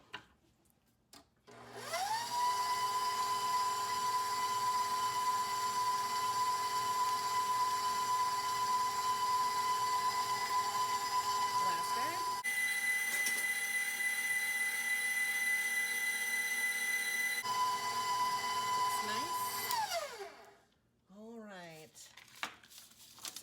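Electric hand mixer beating chocolate sourdough cake batter, whining steadily at medium speed for about eighteen seconds with a pitch change partway through, loud and close, then switched off.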